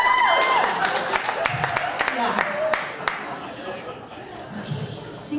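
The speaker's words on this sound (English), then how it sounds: "You can clap too." Scattered clapping and a few cheers from a stand-up comedy audience at the Improv: sparse, uneven hand claps that thin out and fade, heard under and between a performer's talking.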